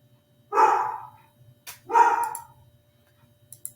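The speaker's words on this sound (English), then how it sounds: "And y'all, please excuse my dog." A pit bull terrier barks indoors, two deep, separate woofs about a second and a half apart, fairly close, with small clicks after and no talking.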